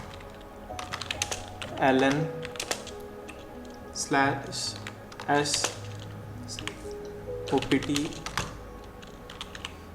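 Typing on a computer keyboard while entering terminal commands in Kali Linux, bursts of quick soft key clicks in short clusters separated by pauses, with someone talking over parts of it.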